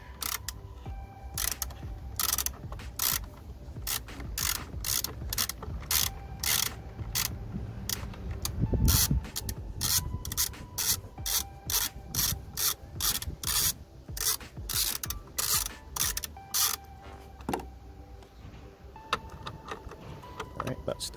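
Repeated sharp ratchet clicks from a wrench loosening the battery clamp bolt on a VW Polo 6R, in irregular bursts close to the microphone over low background noise.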